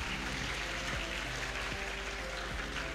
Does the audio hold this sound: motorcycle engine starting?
no